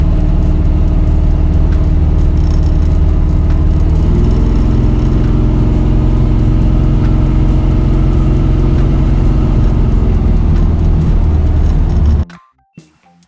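Cabin drone of a car fitted with a 3000 stall torque converter and short rear gears, cruising normally: a loud, steady engine hum with a slight change in pitch partway through, then an abrupt stop.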